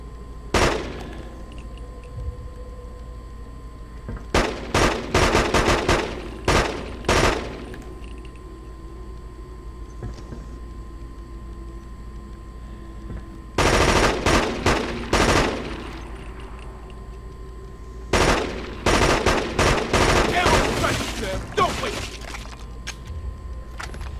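Rapid automatic gunfire from the video game Killzone 2, loud close bursts of rattling shots in several clusters separated by quieter gaps with a low background hum.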